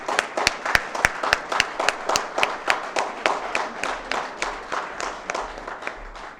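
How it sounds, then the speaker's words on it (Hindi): Scattered hand clapping at a felicitation ceremony for an International Women's Day event, a modest group of distinct claps in a quick uneven rhythm, fairly close and sparse rather than a full roar. "तालियों की गड़गड़ाहट थोड़ी कम है।"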